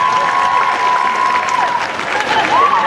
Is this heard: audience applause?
yes